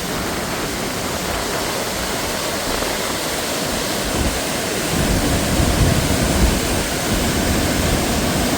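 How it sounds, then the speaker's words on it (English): A powerful waterfall at Glencoe in February thunders as a loud, steady, broadband roar that fills the whole scene, with no voices heard. "There's the waterfall. Very powerful today."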